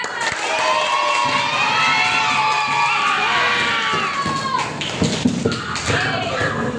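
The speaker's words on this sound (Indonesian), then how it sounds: "sekali lagi kasih tepuk tangan buat kelas 73" Applause and cheering from a class of schoolchildren, class 73, during a school lesson, a loud dense wash of clapping and shouting voices that tapers off toward the end.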